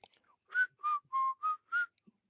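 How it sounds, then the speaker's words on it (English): A person whistles a short tune alone, five clear sustained notes in an even rhythm, each about a quarter second long, close and moderately loud with quiet gaps between. "If you do, whistle a song that comes to mind."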